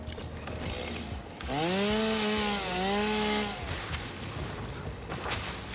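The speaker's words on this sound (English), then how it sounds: "I need a chainsaw." A chainsaw in the factory-building game Satisfactory gives a brief rising and falling engine whine that stands out over a low background of game sound, then fades back down.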